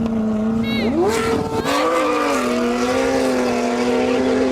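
A Koenigsegg Jesko hypercar accelerates hard in a drag race against a Lamborghini Revuelto and a 1,000hp BMW M3, engine notes climbing and shifting through gears, loud and close, with a voice over the roar.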